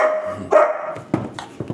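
Several dogs barking at night near a house, a quick series of loud, sharp barks and yips, some overlapping, close to the listener.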